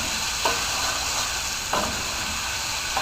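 Half a large sweet onion fries in a pan after tuna steaks were browned, a steady close sizzle and hiss with two brief stirring scrapes, no talking.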